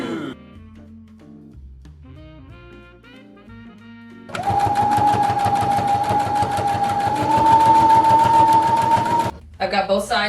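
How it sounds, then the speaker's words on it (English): A home sewing machine runs in a steady fast burst, stitching the two sides of a thrifted dress together for a Wicked-themed outfit, preceded by quieter handling and tonal sounds and a brief stop at the end. "I've got both sides sewn together."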